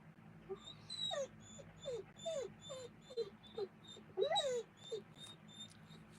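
A dog whimpers and cries in a series of thin, high, wavering whines, some rising and falling, repeated every second or so at moderate distance over a steady fan-like hum.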